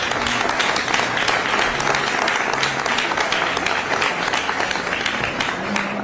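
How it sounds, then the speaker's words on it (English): A room full of people at a news conference on the arrest of Nicolás Maduro breaks into steady, dense applause that stays loud and unbroken throughout, with a faint murmur of voices mixed into the clapping. "give everybody in this room a big round of applause"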